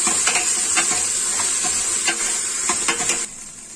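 Ginger garlic paste frying in a pan for a vegetable curry, with steady loud sizzling broken by repeated scraping stirs of a utensil; no talking.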